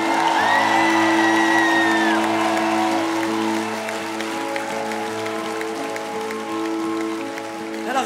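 A concert crowd at a show in Perpignan cheers, whoops and applauds loudly and continuously, with sustained musical tones held underneath; the cheering swells at first and then eases slightly.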